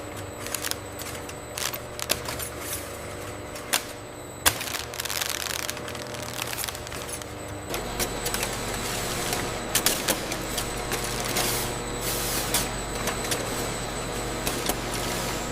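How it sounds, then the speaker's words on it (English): Tissue roll wrapping machine in a bamboo tissue paper factory running continuously at high speed, a dense mechanical clatter with rapid ticking and hiss that thickens midway and keeps going without pause. "The wrapping machine runs continuously at over 300 rolls per minute, with each one individually wrapped, folded, and sealed"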